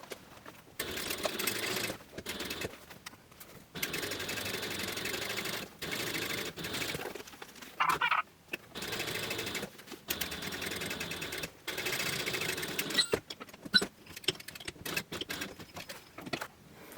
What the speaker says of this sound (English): top stitch all the way across at 1/8 of an inch seam allowance